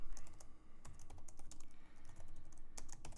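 Rapid, irregular clicking of a computer keyboard as code is typed, close and steady with brief pauses between bursts of keystrokes.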